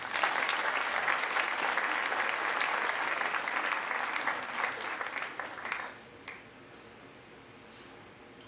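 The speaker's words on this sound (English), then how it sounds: "If we could please give them a round of applause." An audience at a school academic awards assembly for the class of 2024 applauds in a full, even round that thins out and fades to a few scattered claps and room quiet near the end.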